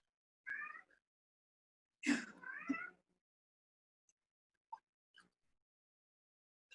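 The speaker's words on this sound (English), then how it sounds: "It doesn't help that he's a noisy cat." A pet cat meows loudly and close by, a two-note call and then a longer drawn-out meow, followed by a few faint ticks in a quiet room.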